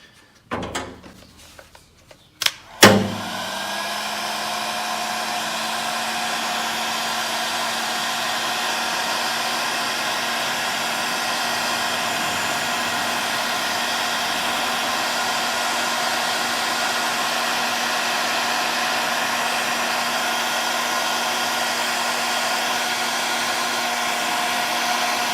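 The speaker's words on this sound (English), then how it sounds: "Then we'll take our heat gun." A heat gun shrinks heat-shrink tubing onto a wire lug in an SPL van build. A few clicks and a clunk come first, then a loud, steady blowing whir runs alone without pause.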